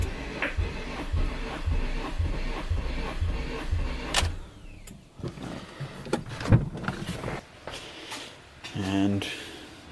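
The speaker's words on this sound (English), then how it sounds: "we are gonna crank the motor" An Acura RSX four-cylinder engine cranks on the starter with the throttle held to the floor during a compression test, a rhythmic chugging pulse for several seconds, then stopping, followed by clunks and handling noises.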